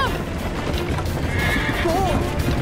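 In the video game Assassin's Creed Liberation, a horse whinnies briefly amid noisy, busy background, with hoof clatter and voices mixed in.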